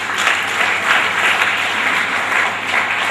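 Audience applause at a talk, a dense, even clatter of many hands clapping together, loud and close, sustained without pause from start to finish with no voices on top.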